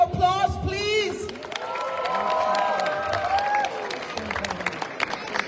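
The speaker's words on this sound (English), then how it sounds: "Give yourself a round of applause, please." Audience applause at an Independence Day celebration in the Lakshmi Narayan Temple rises after a brief spoken moment, clapping mixed with whoops and cheers from a crowd in a reverberant hall.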